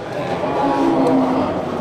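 Cattle lowing at a bull livestock market, a moderately loud drawn-out moo rising over a busy background of crowd murmur and voices.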